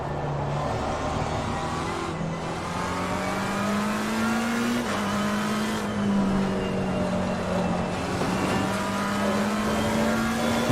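A McLaren 720S race car engine in Assetto Corsa Competizione drones steadily and loud, its pitch slowly rising and dipping through gear changes over a continuous roar of road and tyre noise, with no voices.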